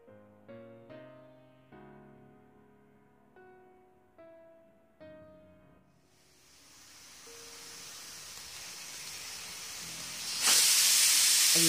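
A pressure cooker cooking vegetable pulao lets out its first whistle: after a stretch of quiet pinging and clinking, a rising steam hiss builds and ends in a loud, sharp burst of whistling steam near the close.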